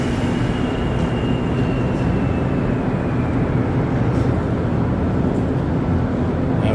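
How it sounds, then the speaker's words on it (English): A Montréal Métro MR73 train pulls out of a Green Line station at afternoon rush hour. Its steady, loud rail rumble and roar fill the platform, with a faint high whine slowly falling in pitch. "So get a nice view of the train leaving here."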